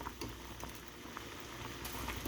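Liquid boiling during a home science experiment, a steady bubbling patter with small pops, fairly quiet and close, with no talk over it.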